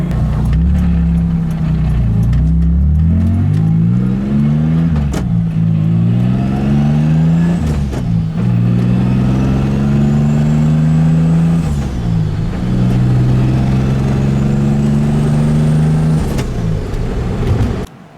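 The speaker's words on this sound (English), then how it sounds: "listen and hear how awesome the turbo spool sounds on this car." A turbocharged BMW E36 drift car engine revs repeatedly, rising and falling in pitch, with a whistling turbo spool climbing above it; loud and close, no talk.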